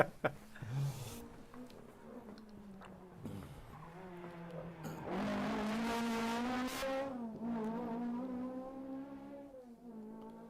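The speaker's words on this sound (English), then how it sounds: "another car coming in the background." A rally car on a stage in the 2023 Cork 20 Rally drives by at race pace: its engine grows loud and rev-heavy with harmonic whine, and tires squeal, while a commentator keeps talking over it.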